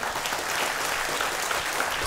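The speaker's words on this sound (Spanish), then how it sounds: "Démosle un aplauso al Señor" A church congregation applauding steadily, dense clapping sustained throughout at an even, fairly loud level with no voices standing out.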